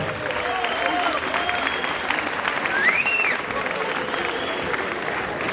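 Applause from an audience at an evening event as a guest is called onstage: dense, steady clapping filling the room for several seconds, with faint whistles or cheers rising briefly above it midway.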